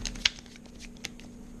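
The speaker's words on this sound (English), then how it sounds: "you put them all together, and you give these a nice little shuffle" A deck of Pokemon trading cards is shuffled by hand, producing a few quick, close riffling snaps over a low steady hum, with no talking.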